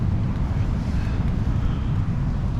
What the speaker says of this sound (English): The wind was just getting really crazy just then.